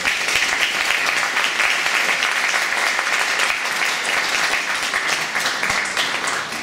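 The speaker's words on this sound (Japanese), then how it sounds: "どうぞ拍手を持ってお迎えください。" A forum audience in Japan gives loud, sustained applause as a moderator enters the stage. Dense, even clapping fills the whole stretch with no voices over it.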